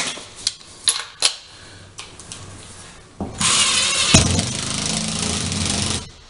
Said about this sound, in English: So let me get some screws in there.